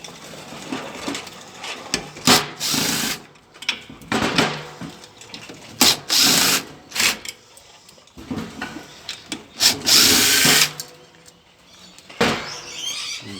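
A power drill backing screws out of a ceiling fan being scrapped, heard as repeated close whirring bursts of the motor, some short and some sustained, with clicks and handling noise between them.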